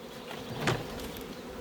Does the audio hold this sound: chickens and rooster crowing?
no